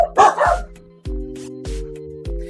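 Dogs bark in a few sharp, loud woofs spaced about half a second apart, each leaving a lingering ringing tone, heard after a short burst of whining at the start.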